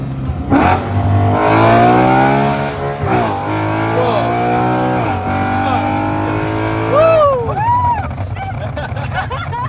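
A BMW E93 M3 with valvetronic mufflers and test pipes revs hard through first and second gear upshifts, loud rising exhaust howls broken by quick shift dips and crackles, heard from inside the car with people talking and exclaiming.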